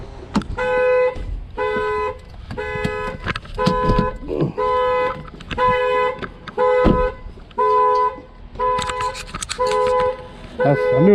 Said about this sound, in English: set off the car alarm on it